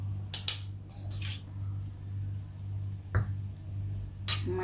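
Vegetable rujak salad is stirred in a stone mortar, giving a few scattered clinks and wet scraping taps over a steady low hum.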